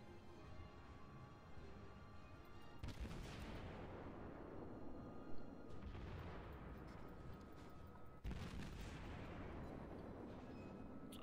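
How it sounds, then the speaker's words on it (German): Naval artillery fire in World of Warships, aimed at the New Mexico: three deep booming salvos spaced several seconds apart, each rolling off slowly under a steady low rumble. "Deswegen werden wir gleich wieder auf die New Mexico schießen."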